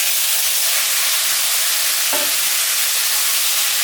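Potato and eggplant added to onion frying in a pan, a steady loud sizzle and hiss throughout with a brief clatter midway.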